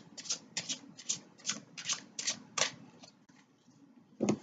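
A deck of tarot cards is shuffled by hand in a quiet room: a run of about eight rhythmic riffling bursts, close and fairly soft, slowing and fading toward the end before a final tap.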